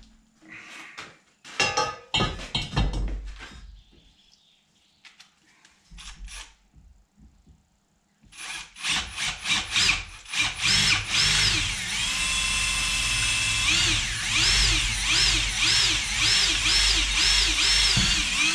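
A few handling clatters and knocks, then an electric drill with a 4.5 mm bit spins up and bores a hole steadily, its whine rising and falling before holding a loud, even pitch.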